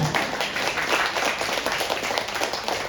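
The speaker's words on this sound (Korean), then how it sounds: "박수 한번 칠까요?" A church congregation at a Sunday worship service claps together, a brief dense burst of applause filling the room evenly for a few seconds.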